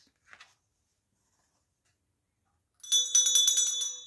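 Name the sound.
school bell ringing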